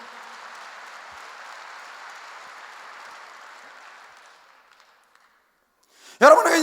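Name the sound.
applause from church congregation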